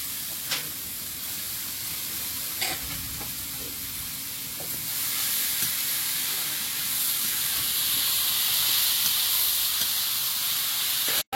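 Grated pointed gourd cooks in a pan with turmeric and salt, a soft steady sizzle that grows louder and fuller about halfway through, with a few light scrapes and taps from stirring.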